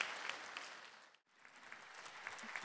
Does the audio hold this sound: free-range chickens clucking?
no